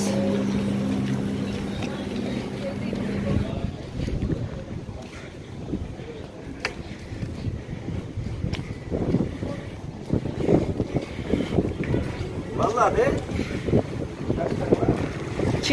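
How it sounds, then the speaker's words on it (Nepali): A cold wind blows at the seaside in Alacati, buffeting the microphone in uneven, rushing gusts that rise and fall throughout. "चिसो छ, हावा चलिराखेको छ."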